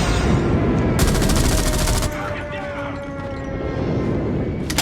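Rapid automatic gunfire in a multiplayer shooter game's hardpoint match, loud dense bursts filling the first two seconds, then lighter shots and game effects continuing with a short burst near the end.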